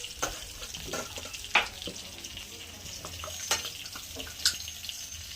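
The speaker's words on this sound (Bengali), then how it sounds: "একটু কালো জিরে ফোড়ন দিলাম" Nigella seeds tempering in hot oil for a paneer curry with potato, cauliflower and peas: a faint, steady sizzle with a handful of sharp crackling pops scattered through it.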